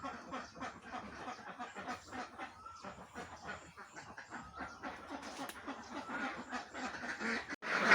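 Ducks quack at morning feeding time on a farm, a busy chorus of overlapping calls close by that rises in loudness toward the end.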